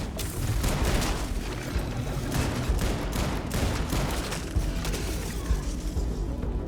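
Shotgun fire in the Starfield video game, a string of heavy booming blasts and gunfire crowding together steadily and loudly for several seconds with no talk.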